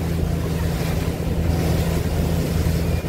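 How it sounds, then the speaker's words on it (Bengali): A fast passenger launch on a river near Chandpur, heard as a steady, loud engine drone with rushing water and wind noise throughout. "আমাদের লঞ্চ বেশ দ্রুত গতিতে চাঁদপুর লঞ্চঘাটের দিকে এগিয়ে যাচ্ছে"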